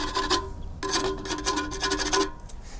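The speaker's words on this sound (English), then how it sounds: "just get your hive tool after an inspection, because the creosote likes to gather on the edges." A beekeeper's hive tool scrapes built-up creosote from the edge of a bee smoker in quick, rough, rasping strokes, close and loud, with a short pause after the first stroke and no talking.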